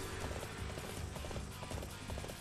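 Horse hooves galloping in Dynasty Warriors 8 Empires battle, a rapid rhythmic clip-clop under dense game noise and clatter, steady and close throughout.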